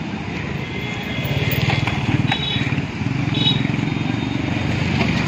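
Motorcycle with its silencer removed on a mountain road in Uttarakhand, a loud, rapid, throbbing exhaust drone that stays steady and close for the whole stretch.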